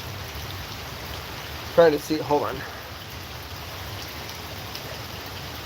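Rain falls outdoors in a steady, fairly soft hiss that continues throughout, while someone speaks briefly near the middle.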